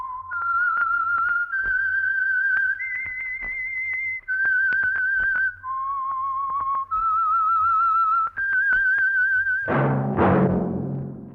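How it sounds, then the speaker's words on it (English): A lone whistler carries the theme tune of The Whistler radio program, a steady melodic line of sustained notes that step up and down. It closes with a sudden louder burst of orchestral music. "That whistle is your signal for the Signal Oil program, The Whistler."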